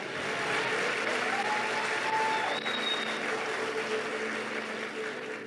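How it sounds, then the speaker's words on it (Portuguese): Church worshippers clap and cheer for Jesus in a steady, dense wash of applause that holds evenly for the whole stretch, with no lull. "Será que a gente pode dar assim um grito e uma salva de palmas para Jesus?"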